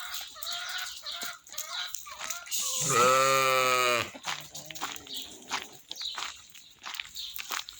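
A lamb bleats once, loud and close, a wavering cry of about a second, amid quieter farmyard clucking and scattered background noise.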